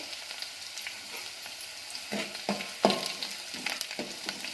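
Crushed garlic and dried red chili pieces sizzle steadily in hot oil, a close, continuous frying hiss with occasional louder pops and stirring scrapes, no talking.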